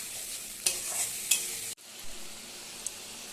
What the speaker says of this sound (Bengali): এবার এটা ভালোভাবে কষিয়ে নেব।